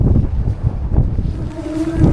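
Strong wind buffets the microphone outdoors by a railway station in Murmansk in the Russian Arctic, a loud, steady low roar with gusty swells and no speech.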